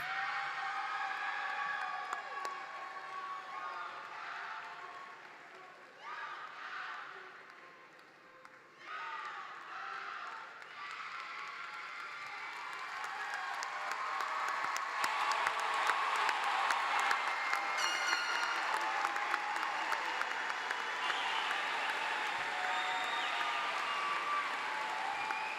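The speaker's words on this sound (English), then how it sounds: "How about another really loud round of applause for our newest graduates?" Applause and crowd noise filling a large arena at a university spring commencement for new graduates, starting moderate with murmurs, then swelling into louder sustained clapping and cheering, distant and reverberant.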